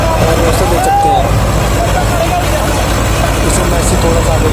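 Massey Ferguson 245 and Swaraj 744 tractors pulling 7 ft rotavators through soil, a loud, steady continuous engine drone and churning rumble, with someone talking over it.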